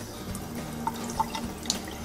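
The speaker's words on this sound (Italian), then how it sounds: "mettiamola subito in ammollo perché i cereali integrali devono essere messi in ammollo in acqua e limone" Water dripping and trickling into a bowl of red and white quinoa set to soak with lemon in a kitchen, a few faint close drips and light splashes over a quiet hiss.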